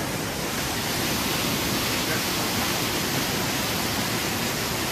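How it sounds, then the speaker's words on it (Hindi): A powerful waterfall in Himachal roars as a loud, continuous, broadband rush of falling water that stays steady and dense throughout, with no other sounds standing out. "देख सकते हैं झरना कितना जबरदस्त लग रहा है, बहुत तगड़ी आवाज और बहुत तगड़ा झरना"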